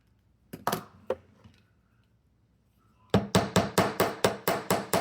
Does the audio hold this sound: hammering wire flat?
yes